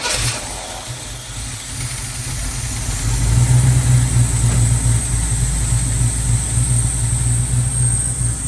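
A big block Trans Am engine with a Quadrajet 4-barrel carburetor idles steadily and loud nearby, with a low rumbling throb that rises slightly in speed and strength partway through.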